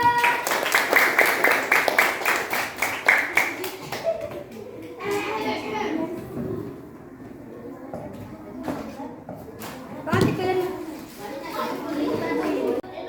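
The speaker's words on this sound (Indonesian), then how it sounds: "Oke, tepuk tangan dulu." Group of children in a classroom clapping hands in a quick rhythmic burst for a few seconds, followed by chatter, scattered claps and talking.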